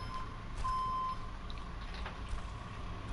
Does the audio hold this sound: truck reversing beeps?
yes